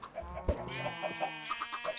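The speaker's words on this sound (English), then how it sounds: "So that's how you get baby chickens." Baby chickens in Minecraft cluck in short, repeated clucks and chirps, close and clear, while a steady tonal game sound plays underneath.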